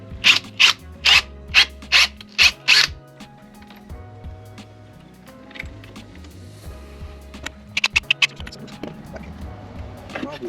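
A socket wrench ratchets on the battery terminals of a Ford Transit van: six loud, evenly spaced rasping clicks open the clip, then quieter handling and a faint second burst of ratcheting later, with a low background hum.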